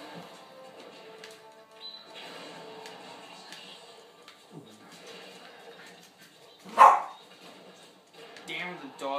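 A dog barks once in a Super Smash Bros 4 game, a single sharp burst standing out over busy game music and effects.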